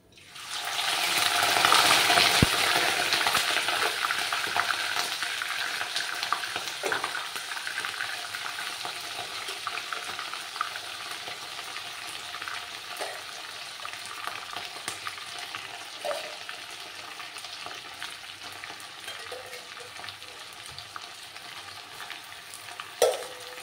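Loud, steady sizzling of mutton frying in hot oil, with occasional scrapes and knocks of stirring, continuous throughout and slowly settling.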